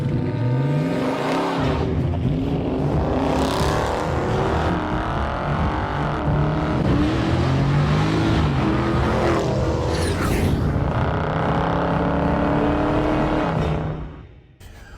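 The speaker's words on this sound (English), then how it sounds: "I'm going to drive an entire tank on eco" 2023 Toyota Camry XSE V6 cruising in eco mode, a steady engine drone with shifting tonal pitch and road rumble held loud throughout, easing off at the very end.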